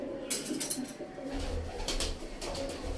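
Soft, low pigeon cooing repeats nearby, a throaty murmuring call with faint rustling and chirps in the background.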